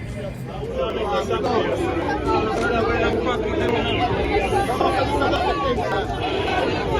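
A large crowd chatters outside a stadium before a concert, a steady dense babble of many voices close around, continuous throughout with no single sound standing out.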